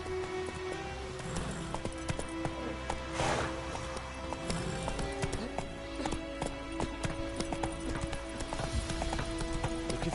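Roach, the horse in the video game The Witcher 3, trots with steady, close clip-clop hoofbeats over a busy game ambience, with a brief whinny-like burst partway through.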